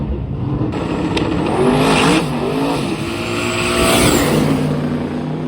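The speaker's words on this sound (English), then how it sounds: "I believe that Chevelle in the right lane is battling Glenn for that spot" Drag racing cars roar down the strip during a pass at a drag week event, with loud engine revving and rising, sweeping tones over a steady crowd-and-track backdrop.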